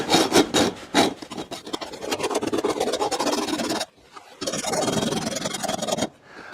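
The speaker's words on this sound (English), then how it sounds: "I got myself another hacksaw. I'm hoping this one's sharper." A hacksaw cuts through a Shimoda modular camera backpack insert with fast, close, rasping strokes that run almost continuously, pausing briefly midway before resuming.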